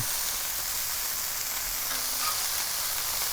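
Burgers sizzle on a Blackstone griddle as they are flipped, a steady close hiss and crackle of frying fat that runs unbroken with no voices over it.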